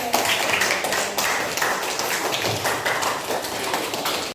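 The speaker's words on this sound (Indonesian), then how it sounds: "silakan tepuk tangan Nuril" A classroom of students claps for a classmate, with loud, dense clapping that continues steadily for several seconds without speech.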